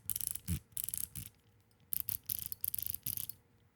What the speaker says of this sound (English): And we have our 3 different ratchets here.